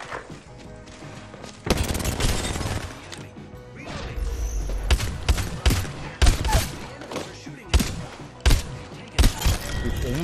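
Gunfire in Apex Legends, with rapid bursts of sharp weapon shots and impacts that crack out in repeated clusters over game ambience and mechanical clatter.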